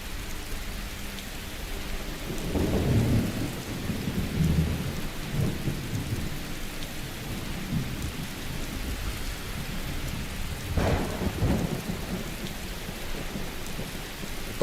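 Rain pours steadily in the Skyrim video game while thunder rolls, with a loud rumble near the three-second mark and another crack around eleven seconds, no voices over the storm.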